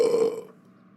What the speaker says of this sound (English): I told you not to burp.